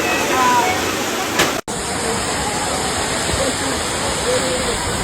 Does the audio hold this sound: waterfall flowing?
yes